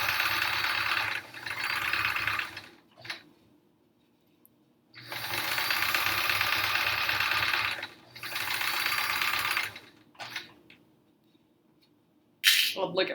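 A sewing machine stitching quilt rows runs in steady whirring bursts of rapid needle chatter, several long runs separated by quiet pauses, close and clear with no talk over it.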